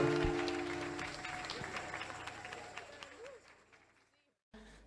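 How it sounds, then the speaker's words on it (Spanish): A church congregation at a charismatic Spanish-language service claps and applauds, loud at first and then tapering off over several seconds, mixed with voices. "Un aplauso dele al Señor."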